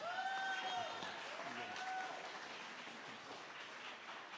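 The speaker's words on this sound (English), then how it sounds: "Round of applause." Audience applause greets a speaker at a school district LCAP meeting. It is a moderate, steady wash of clapping with faint tonal sounds and voices over it.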